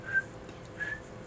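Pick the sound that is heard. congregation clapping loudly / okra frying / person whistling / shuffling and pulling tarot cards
person whistling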